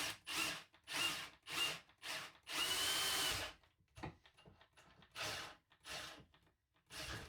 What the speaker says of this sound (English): First I will drill a hole